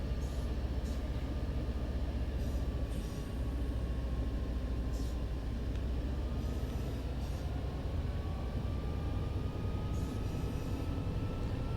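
Metrolink F59PHR train running on the Antelope Valley Line in Train Sim World 5, a steady low rumble of the locomotive and rolling wheels with faint tonal whines drifting over it.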